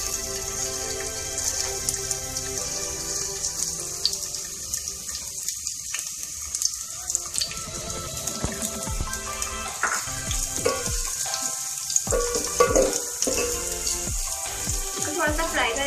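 Onions frying in oil in a cooking pot, a dense crackling sizzle like rain that holds steady with scattered sharper pops, close and moderately loud, no voices.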